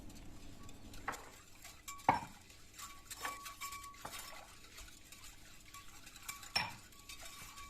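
A spoon stirs sugar, warm milk and warm water together in a bowl or glass, with scattered metallic clinks and taps at irregular intervals over a soft swishing, close and fairly quiet.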